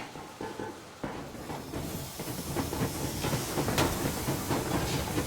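Steam train in Metro Exodus gets underway, a steady loud hiss of steam over rumbling, clattering rail noise that builds and holds for several seconds with no talk.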